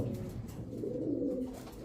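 Pigeons cooing in low, throaty rolling murmurs, steady and fairly close, with no talking.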